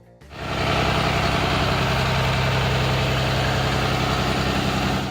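A Cummins 6.7 six-cylinder diesel in a Blue Bird Vision school bus fires up and settles into a loud, steady, smooth low thrum, holding constant and close without any voices.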